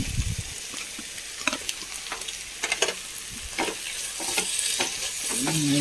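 Garlic, ginger and green chillies fry in a pan of oil for chicken biryani, sizzling steadily while a utensil scrapes and stirs in scattered clicks, the crackle growing louder toward the end.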